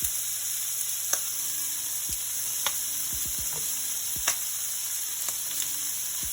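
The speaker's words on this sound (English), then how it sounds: "let's get the tomatoes added in" Tomatoes and basil cook in a skillet with a steady, close frying sizzle, broken by scattered sharp clicks and a few low thumps as they settle in the pan.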